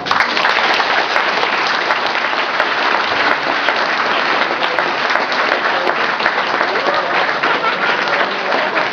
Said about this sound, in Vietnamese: xin quý vị chào có tay phải lớn nha, phải lớn thiệt lớn